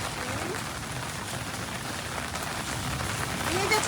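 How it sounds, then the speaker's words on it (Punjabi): Heavy monsoon rain pours steadily on a campsite, a dense continuous hiss of drops drumming on surfaces, loud and close throughout with a slight swell near the end. "ਉੱਪਰ ਤੇ ਤਾਂ ਇੰਨਾ ਮੀਂਹ ਪੈਂਦਾ"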